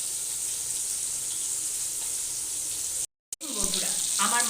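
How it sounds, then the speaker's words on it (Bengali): Rohu fish pieces frying in hot oil make a continuous bright crackling sizzle for about three seconds, then a brief silent cut, followed by louder clattering and bubbling as the pan is handled. "আমার মাছগুলো একদম লাল লাল করে ভাজা হয়ে গেছে"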